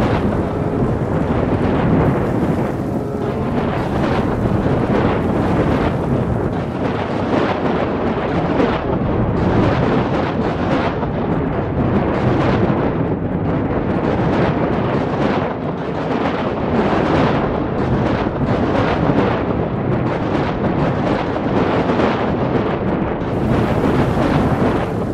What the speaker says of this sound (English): Let's give a massive storm going up north.